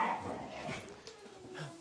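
A naughty puppy whimpers and gives short yips and barks, close by and fairly soft, over a low background rumble.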